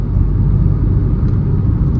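Steady low engine rumble and road drone inside a Maruti Fronx with a turbo engine and manual transmission while driving, a continuous muted cabin hum with no talking.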